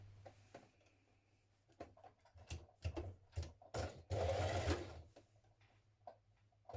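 A sewing machine stitches a dungaree side seam in short, uneven bursts, with a longer run of stitching in the middle, close and fairly quiet, broken up by handling clicks and pauses.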